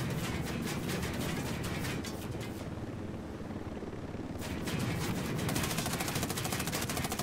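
Machine gun fire from a helicopter in the video game Ghost Recon Wildlands rattles in rapid bursts over a steady rotor drone, pausing briefly midway before resuming.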